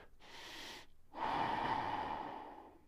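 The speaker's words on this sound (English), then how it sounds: "just close your mouth and exhale through your nose" A person breathes out through the nose with the mouth closed: a short nasal exhale, a brief pause, then a longer, steady airy rush, close and alone.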